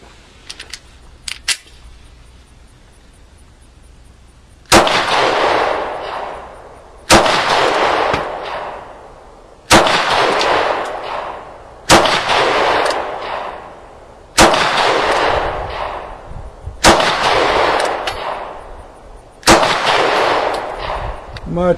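A Ruger LC9 pistol fires USA-brand ammunition in seven loud, sharp shots spaced about two and a half seconds apart, each ringing out briefly, after a quiet opening with a few faint clicks.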